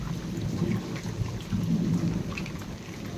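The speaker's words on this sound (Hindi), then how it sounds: "बाहर बारिश हो रही" Steady rain pouring outside, a dense wash of drops with low rumbling underneath, fairly loud and continuous with no one talking.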